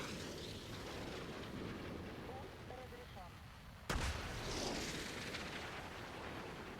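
A tank gun fires once in War Thunder, a sudden heavy boom that bursts out partway through over a steady rumble of battlefield noise and engine drone.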